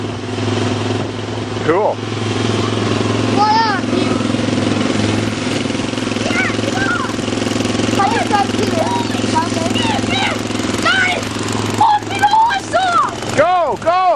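A first-time rider runs a motorcycle engine on a farm, with a steady mid-pitched drone and occasional revving under frequent excited talk and shouts from family members.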